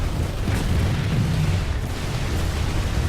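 A continuous roar of cannon fire and explosions from Planetside 2 battle, dense and rumbling with heavy low-end, no distinct gaps between blasts.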